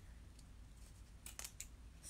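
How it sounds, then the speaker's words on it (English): Scissors snip through craft loops in a quiet indoor room, giving a few crisp, close cuts clustered near the end after a short pause. "See if my scissors will go through it and dovetail them."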